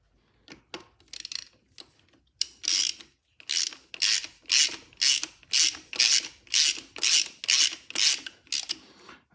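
A ratchet tightens an aluminum oil feed fitting onto a Mamba GTX3071R turbo on an MK7 GTI, giving a close, rhythmic series of about a dozen sharp ratcheting strokes after a few hesitant clicks.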